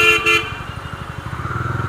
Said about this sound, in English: Even the horn is pretty loud.